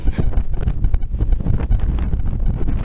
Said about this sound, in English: Trying to shelter the camera because of the wind.